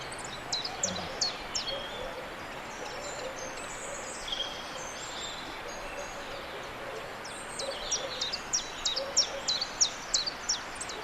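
A chiffchaff in Monkstown sings its repeated two-note phrases, a short run at first, then a pause filled with softer, quieter notes and faint background birds, before a clear rhythmic burst of chiff-chaff notes returns.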